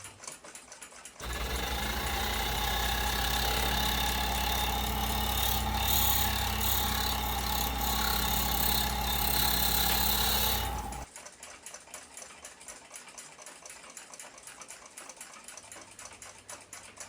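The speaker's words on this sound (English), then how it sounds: "I'll use a diamond wheel to do the rough cut" A diamond wheel rough-cuts a new balance staff for an 1887 Kroeber marine ship's clock, giving a loud, steady whirring grind of about ten seconds that starts and stops abruptly over a quieter background hum.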